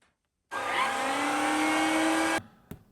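A Tineco iFloor cordless floor washer vacuum whirs steadily for about two seconds, then shuts off, followed by a faint click.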